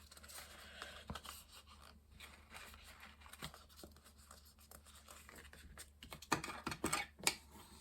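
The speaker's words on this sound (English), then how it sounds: "Burnishing very narrow score lines." Fine paper being burnished along very narrow score lines for a small papercraft folio, a faint, close scraping and rubbing with small taps and scuffs, growing briefly louder near the end, no talking.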